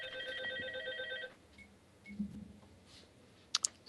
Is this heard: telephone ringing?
yes